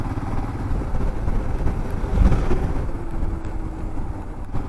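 Motorcycle riding slowly up a ghat road in hilly country near Daringbadi, with a steady engine drone and wind rumble throughout and no voices.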